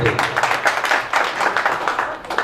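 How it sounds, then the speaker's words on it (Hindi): Audience clapping at a Diwali special stage program in India: several bursts of rhythmic hand claps, fairly close and moderately loud, rising and falling in waves. "अभी रविंद्र जी के लिए एक बार जोरदार तालियां बजा दो"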